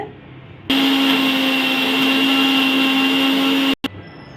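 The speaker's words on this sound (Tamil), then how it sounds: "இந்த ஒரு தக்காளியும் இந்த ரெண்டு மிளகாவையும் நம்ம மிக்சி ஜாரில் போட்டு நம்ம அரைச்சிக்கலாம்" A mixer grinder grinds tomato and green chillies in a jar: the motor kicks in abruptly and whirs loudly at a steady high pitch for about three seconds, then cuts off, with a brief restart pulse just after.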